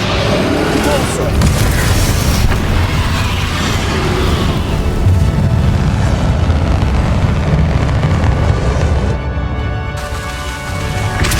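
Repulsor spell blasts boom and crash in the Hogwarts Legacy video game, loud, dense and continuous, with layered explosions, rumbling and a voice calling out in the mix.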